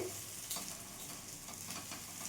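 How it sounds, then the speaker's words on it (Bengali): Neem leaves fry in a pan while being stirred, a faint, steady oily sizzle with occasional light scraping from the stirring, heard alone and quiet throughout. "এখন 1-2 মিনিট আমি এইভাবে একটু নাড়াচাড়া করে ভাজা ভাজা করে নেব, যাতে নিম পাতাটা ভাজা হয়ে যায়"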